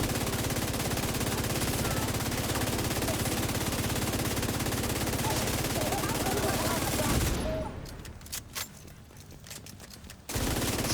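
Light machine gun fire in a video game, a dense, loud sustained burst lasting about seven seconds, followed by a quieter stretch of scattered clicks and thuds, then another loud burst at the very end.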